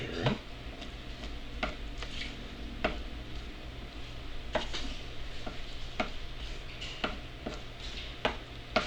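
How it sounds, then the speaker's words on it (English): Food mixed with a dab of hot sauce being stirred in a pot, giving soft scraping and clinking utensil taps against a faint steady sizzle, quiet and close. "give that a good stir up."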